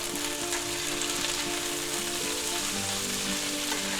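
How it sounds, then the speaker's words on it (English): Onions stir-frying for a Philly cheesesteak with peppers sizzle steadily in a hot pan, a dense continuous crackle with occasional stirring, close and loud with no talking. "We'll stir fry these up good"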